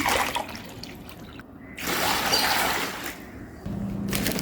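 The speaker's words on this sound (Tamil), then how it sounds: "இன்னும் ஒரு லிட்ரு ஊற்றிக்கலாம்" Water poured into a basin while mixing homemade dishwashing liquid, a steady near splashing pour that pauses briefly and resumes, with no voices.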